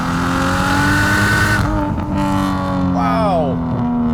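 Nissan Skyline R34 GT-T sedan with an RB25 turbo engine pulling at full throttle in third gear from around 4,000 RPM, a loud steady rising engine roar heard from inside the car, with a voice speaking briefly.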